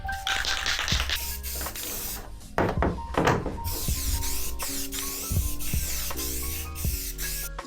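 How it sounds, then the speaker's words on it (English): An aerosol can of sealer hisses in several sustained bursts during a Zuma restoration, close and loud, with brief clicks and knocks between sprays. "We're gonna spray some of this sealer."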